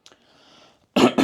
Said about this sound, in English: I've got a tickly cough